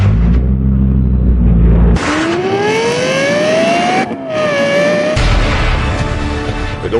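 A Lexus LFA engine revs sharply, its pitch climbing fast to a high scream, dipping briefly, then surging again, loud and close.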